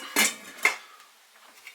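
A lid goes onto a pot of ox cheek curry simmering on the stove. Two quick metallic clanks of the lid against the pot ring out close together, followed by near silence and a faint tap.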